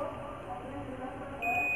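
A multimeter's continuity buzzer sounds while probing a phone circuit board for a shorted CPU buck line, a steady electronic beep starting near the end over a noisy workbench background.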